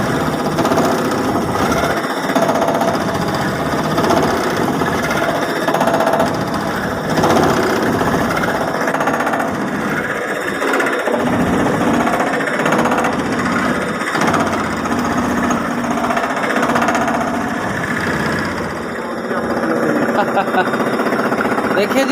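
A CNC machine mills a mold automatically, producing a continuous, loud mechanical whine and grinding buzz that holds steady throughout with slight rises and dips.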